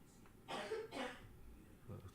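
A woman coughs in the Resident Evil 7: Biohazard video game, two harsh coughs close together and then a softer third one, fairly quiet and heard alone.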